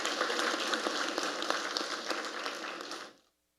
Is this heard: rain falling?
no